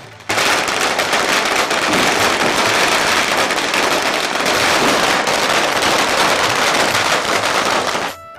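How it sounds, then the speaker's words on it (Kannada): Dense, continuous crackling of firecrackers bursting in rapid overlapping bursts at a temple firecracker festival, loud and close, with no pause for several seconds. "ಝಗಮಗಿಸುವ ಬೆಳಕಿನ ನಡುವೆ ಪಟಾಕಿ ಸಿಡಿಮದ್ದುಗಳ ಅಬ್ಬರ ಕೇಳಿಬರುತ್ತೆ"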